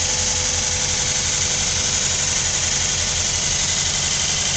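A 2003 Dodge Durango's 4.7 liter engine with 75,000 miles idles steadily at an auto salvage yard, giving a constant low rumble with a faint mechanical ticking and no speech.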